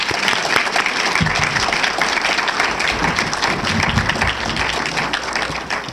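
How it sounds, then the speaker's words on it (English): Audience at a civil rights symposium applauding in a sustained, dense round of clapping from many hands, steady and fairly loud throughout the whole stretch. "Let us give him another round of applause"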